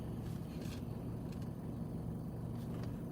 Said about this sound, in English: Them cars go by.